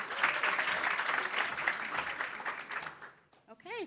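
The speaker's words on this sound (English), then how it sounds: "give her a big round of applause welcoming her" Crowd applause welcomes someone speaker at a workforce development summit, a broad steady wash of clapping that fades out near the end, followed by a brief rising whistle-like sound.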